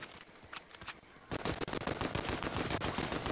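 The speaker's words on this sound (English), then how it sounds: "Oh my god, people keep shooting me." Rapid automatic gunfire from the video game Fortnite rattles in a dense, loud stream, with a few separate shots first and then nonstop bursts crackling close.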